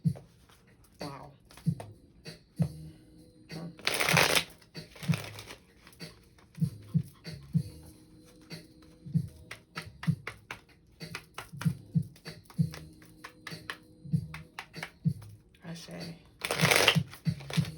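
A deck of tarot cards is shuffled in several rapid riffling bursts at close range, with soft handling taps and card flicks in between, under faint background voice.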